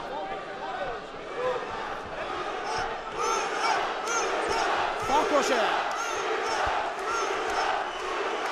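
A packed boxing arena crowd roars and chants through a 91 kg title fight, loud and continuous with rising surges and sharp shouts, while a commentator's voice talks over the din.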